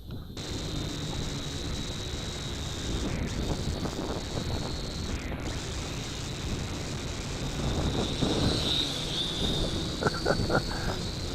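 An FQ777 918C camera quadcopter flies upwind outdoors, giving a thin, steady high whine that rises and falls slightly beneath constant wind buffeting on the microphone.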